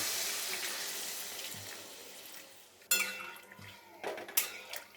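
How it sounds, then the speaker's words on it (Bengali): Hot water is poured into a pot of potato curry, a faint splashing pour that swells with clinks of the pan and a louder surge of water near the end. "এখন গরম করে রাখা জল দিয়ে দেব।"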